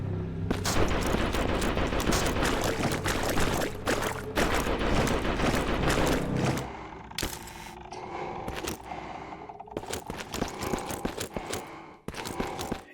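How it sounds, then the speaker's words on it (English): In the trench warfare game Conscript, rapid gunfire and machine-gun bursts crackle continuously, loud at first, then thinning to scattered distant shots over low rumbling ambience. "like when you're in the trenches and there's gunfire in the distance"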